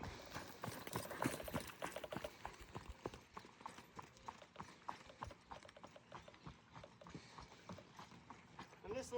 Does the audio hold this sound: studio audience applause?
no